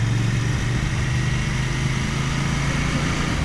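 A Royal Enfield Bear 650 two-cylinder motorcycle engine runs smoothly and steadily, a loud, close, constant low drone with no talking.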